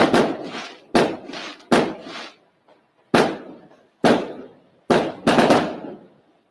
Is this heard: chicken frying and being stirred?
no